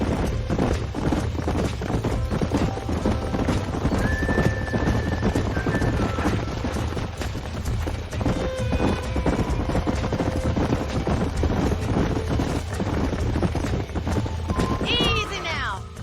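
Horses in the Red Dead Redemption video game trot with steady clip-clop hoofbeats, plus occasional whinnies, under constant background music and game sound through the whole stretch.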